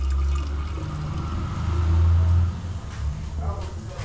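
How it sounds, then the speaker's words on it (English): Water runs steadily into a drink bottle through a water filter at a camp in the Congo jungle, a continuous low trickling and gurgling that swells in the middle and eases off toward the end. "So you just fill up the drink bottle, filters through"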